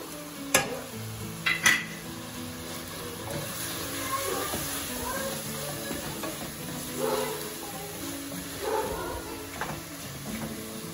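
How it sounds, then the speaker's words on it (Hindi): Mutton and dry spices frying in a pan for mutton tahari, a steady sizzle with occasional scrapes and clinks of a stirring spoon against the pan, close and continuous, with a voice faintly under it. "अच्छे से भूनेंगे, अच्छे से भूनेंगे इसको"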